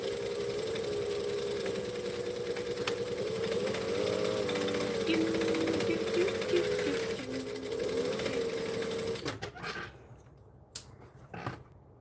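A sewing machine runs steadily for about nine seconds, stitching a custom order along curves, a loud continuous motor whir that stops abruptly, leaving a few brief clicks and handling sounds.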